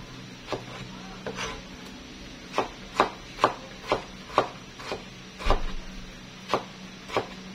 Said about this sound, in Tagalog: Hiwain ko lang din ito ng maninipis kasi igigisa po natin ito.